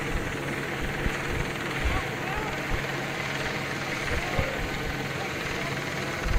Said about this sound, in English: I think I hear a helicopter in the sky